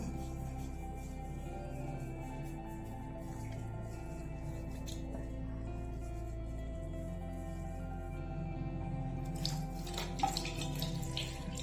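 A tap runs steadily into a sink while someone washes their face, a constant close splashing flow with a few brief louder splashes near the end.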